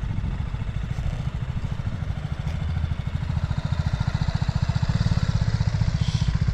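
A motorcycle engine runs steadily with a fast, throbbing low rumble, close and fairly loud, with no talking.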